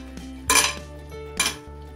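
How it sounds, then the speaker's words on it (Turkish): Utensil scraping and clinking against a bowl while roasted eggplant salad ingredients are stirred, with two louder bursts of clatter standing out over steady quieter mixing. "Ve şimdi güzelce karıştırıyorum bu malzemeleri."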